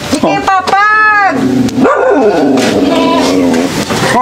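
A dog barks, yips and whimpers close by in a rural home setting, with several sharp barks and a drawn-out whine while people talk loudly over it.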